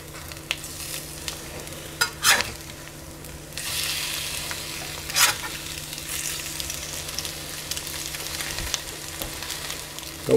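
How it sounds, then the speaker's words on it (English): Eggs frying on a well-seasoned cast iron skillet, with a steady soft sizzle throughout and a few sharp scraping knocks as a spatula slides under and flips them, close and fairly quiet with no talking. "See those eggs sliding around on that cast iron skillet?"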